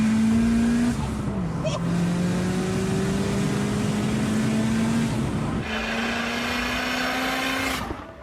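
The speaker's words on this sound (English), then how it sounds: "One of them was Jonathan's 330 horsepower Screamer piped Abarth" A 330-horsepower Abarth fitted with Screamer exhaust pipes drones loudly nearby, its engine note holding steady, briefly dropping and then climbing again as it revs and shifts.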